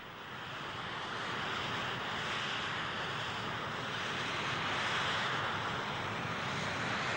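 Steady broadband drone of the Northrop XB-35 flying wing's four Pratt & Whitney R-4360 piston engines, a continuous rushing roar that swells slightly midway, heard alone without talk.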